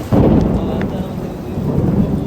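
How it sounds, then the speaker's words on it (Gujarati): Heavy rain pours down steadily in a village, with deep thunder rumbling continuously beneath the dense, loud hiss of the downpour. "તમે જોવો મિત્રો કેટલો જોરથી વરસાદ પડ્યો મિત્રો."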